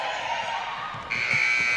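At a women's basketball game between MLCA and Soap Lake, a loud, steady electronic buzzer sounds to end the first half. It holds over a constant gym hum and grows stronger partway through.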